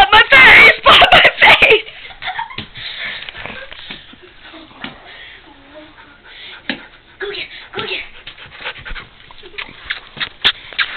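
A puppy gives a high, thin whine early on, then fainter whimpers and small movement sounds follow while people talk nearby.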